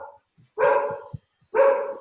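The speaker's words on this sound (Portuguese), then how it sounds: "Quem é o cachorro que tá latindo?" A dog barks twice, close and loud, each bark a sharp burst followed by a short pause.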